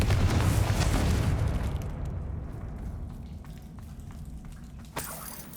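A heavy magical blast from Bombarda and Confringo spells in Hogwarts Legacy booms loudly, then its rumble trails off over several seconds, ending with a smaller pop near the close.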